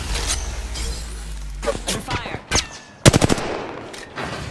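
Video game gunfire in a battle royale match, scattered sharp shots followed by a rapid close burst of several loud cracks, with shattering and other game effects between them.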